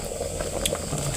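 Water with spices comes to a boil for Indonesian liwet rice, bubbling and hissing steadily at close range with small pops throughout, no voices over it.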